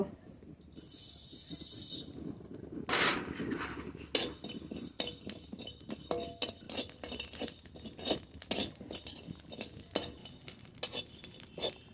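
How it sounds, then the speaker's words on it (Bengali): Coriander seeds rattle and skitter as they are dry-roasted and stirred in a pan, with frequent close scrapes and light metallic clinks in an uneven rhythm. "এবার ধনে ভেজে নেব"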